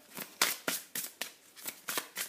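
Oracle cards are handled for a reading, making about eight quick, crisp flicks and slaps in a steady rhythm, close and moderately loud, with no talking.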